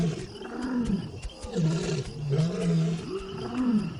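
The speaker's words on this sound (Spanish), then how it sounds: "cuando la manada ruge, los leones que lo oyen cuentan cuántos leones están rugiendo" A pride of lions in the Serengeti roars, with deep rumbling calls rising and falling in a series of grunting bursts, loud and fairly close.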